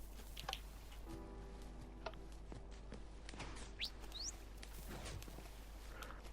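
A Minecraft parrot mimicking other mobs in a sky block world, with faint chirps, squeaks and short rising calls scattered over low background noise and soft footsteps, quiet and sparse.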